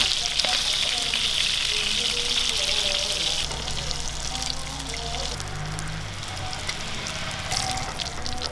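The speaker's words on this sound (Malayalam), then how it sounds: "നമ്മൾ മീനെ പകുതി ഫ്രൈ ചെയ്തെടുത്തിട്ടുണ്ട്" Partly fried fish crackling in hot oil for a fish curry, a dense continuous sizzle up close that softens midway into gentler bubbling and faint movement in the pan.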